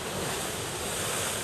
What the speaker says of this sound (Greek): Γιγαντιαία κύματα σχηματίζονται στις ακτές του Ατλαντικού Ωκεανού λόγω της κακοκαιρίας.